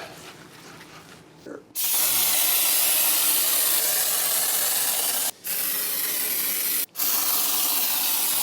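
Beest FullStop spray foam insulation being applied as a light second coat, with a loud continuous close hiss of spray broken by two brief pauses after a quieter start.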